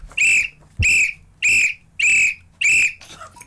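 Five loud, sharp referee-style whistle blasts at an even rhythm, each about half a second long, followed by a faint trailing tweet, close and clear with no talk.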